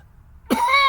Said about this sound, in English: got a little bit of a cough here.